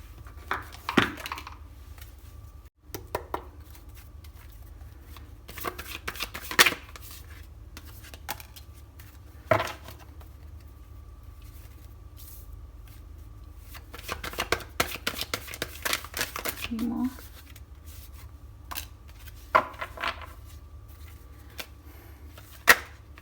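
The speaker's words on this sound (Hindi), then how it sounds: "मैं ये कार्ड्स थोड़ा अरेंज कर देती हूँ ताकि आपको देखने में आसानी हो" Tarot cards are shuffled and arranged on a surface in a quiet room, producing scattered soft riffles, flicks and sliding rustles in short, irregular bursts.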